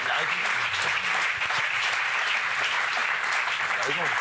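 Studio audience applause on a French television talk show, a dense steady wash of clapping lasting the whole stretch, fairly loud and close, with voices faintly audible beneath it.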